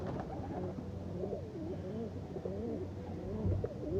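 Female Kaldum pigeons coo in a steady, close series of low, rolling calls, with a faint hum running underneath throughout.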